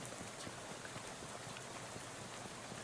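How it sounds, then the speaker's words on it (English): Steady rain falls in the game Shadows Over Loathing, an even, faint hiss of drops with no pauses and no voices over it. "This hobo seems wholly unperturbed by the rain."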